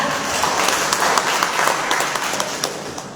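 Steady audience applause at a women's church fellowship gathering, a continuous wash of many hands clapping at moderate loudness, slightly tapering toward the end.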